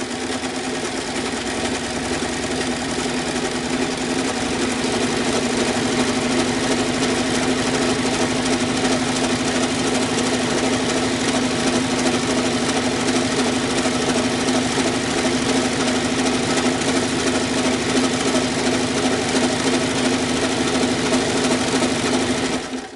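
A sewing machine stitches a quilt, running loud and steady up close with a constant rapid mechanical whir and hum for the whole stretch, no voices over it.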